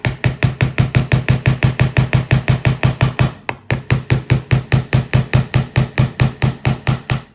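A hammer drives small nails for a hanger into the back of resin artwork, a rapid, steady string of close, sharp taps that pauses briefly midway, then carries on at the same pace.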